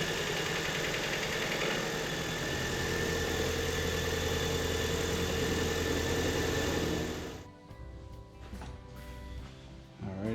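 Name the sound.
Ford Maverick Hybrid engine running after oil change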